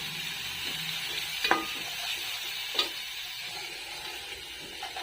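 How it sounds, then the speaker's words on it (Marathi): Onion and capsicum frying in a pan, a soft continuous sizzle with a couple of light utensil taps and scrapes, fairly quiet and close. "कांदा, शिमला मिरची भाजून घेते आता."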